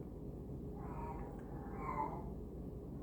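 A house cat meows twice in quick succession, faint and a little distant, over a steady low background hum.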